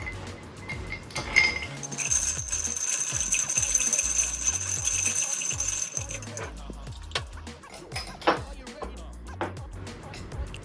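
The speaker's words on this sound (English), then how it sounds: "and give it a good stir." Old fashioned cocktail with simple syrup and Angostura bitters stirred in a mixing glass, a continuous close clinking and rattling of ice against glass under a spoon, with a voice talking over it.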